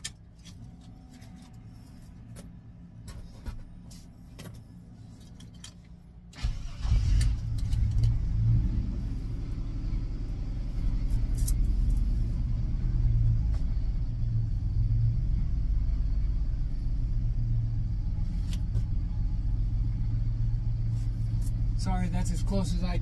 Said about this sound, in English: we're gonna drive it around the block, maybe see what's going on here